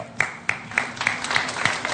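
Steady, rhythmic clapping in a cricket talk show studio, about seven sharp, evenly spaced claps in two seconds with a light wash of room noise behind them.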